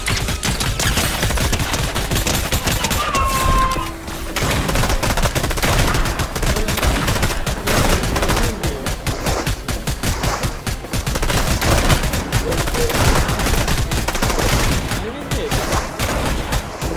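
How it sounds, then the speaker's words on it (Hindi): Enemy gunfire in a video game rattles on almost without a break, loud and close, with sustained automatic bursts mixed with single shots, and a player's voice breaks in now and then. "लग तो ऐसी रहा देख इतना फायर आ रहा बोलते एनिमीज है"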